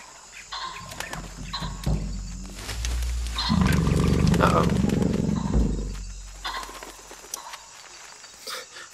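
An animal growls and roars in the jungle of the video game Shadow of the Tomb Raider, a deep rumbling roar swelling in the middle, with other game ambience and a voice talking around it.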